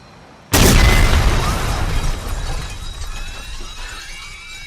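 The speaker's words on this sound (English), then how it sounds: "then it comes around, explosion" A sudden loud explosion from a scene in the film Children of Men bursts in, followed by a long crackling, shattering tail of debris that slowly fades away.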